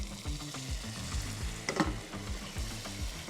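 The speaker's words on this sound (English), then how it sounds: "we're gonna take this pot of stock here, this flavor pot, and we're gonna start ladling in just a little bit at a time" Stock is ladled into a pot of garlic parmesan risotto that sizzles and bubbles close by, with a brief splashing pour partway through and no talk.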